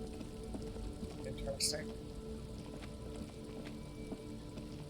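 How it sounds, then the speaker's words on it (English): Soft rain hisses and patters in the video game Disco Elysium beneath low game ambience, with a brief louder splash and a man's short spoken word over it. "it's raining"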